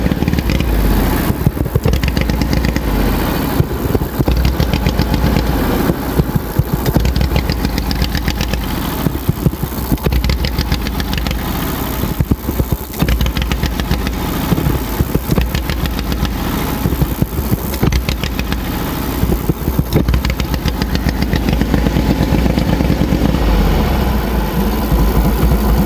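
A lifted lawn mower engine runs loud and steady at high throttle for the whole stretch, close up, with rough sputtering pops and no talk over it.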